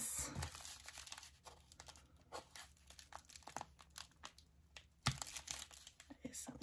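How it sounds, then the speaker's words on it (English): Packing tape on a witch-themed subscription box is slit and peeled open, with close, quiet crinkling and tearing in irregular bursts, and a sharper rip near the end. "Just cut the tape on this."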